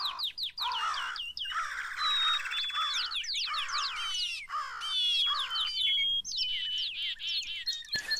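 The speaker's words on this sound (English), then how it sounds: "It actually makes some cool, like real bird noises." A dense chorus of bird calls from the Minecraft Animals+ mod: rapid overlapping chirps, squawks and caws, close and loud, running without pause and giving way to thin whistled tweets near the end.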